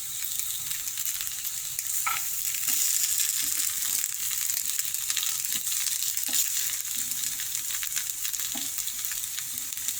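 Rava-coated vegetables frying gently in oil over a low flame, a steady close sizzle with occasional soft scraping stirs and light crackles, no voices.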